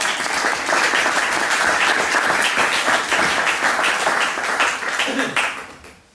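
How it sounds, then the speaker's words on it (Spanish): A conference audience applauds to welcome a speaker, a dense, even burst of clapping that holds for several seconds and then tapers off at the end. "con un gran aplauso, damos la bienvenida a Aitor Urresti"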